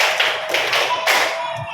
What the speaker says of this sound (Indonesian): Oke, lagi sekali, tepuk 5 kali.